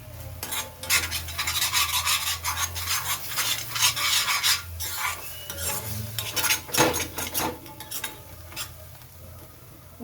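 Masala being stirred briskly in an iron kadai, with repeated scraping and rasping strokes of a spoon against the metal over a faint sizzle, close and fairly loud.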